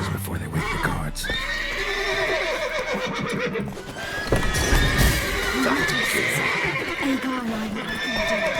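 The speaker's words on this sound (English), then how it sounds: "Gotta call off the horses before they wake the guards." Horses neigh and whinny repeatedly in The Witcher 3, with hooves clip-clopping and voices talking over the busy, fairly loud scene.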